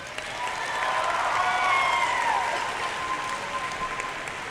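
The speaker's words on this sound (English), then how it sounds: "please give your family, friends, parents, mentors, and coaches a round of applause for all their support" Applause at a 2019 high school graduation ceremony, given for families, friends and mentors: a steady, broad wash of crowd clapping that swells slightly mid-way and holds, with whistling tones rising above it.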